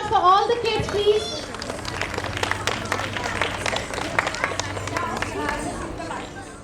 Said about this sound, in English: A big round of applause for all the kids, please.